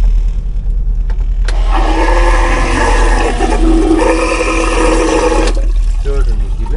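A marine toilet installed in a caravan runs its electric motor pump for about four seconds with a steady whirring drone and some water noise, then stops, while a person talks nearby.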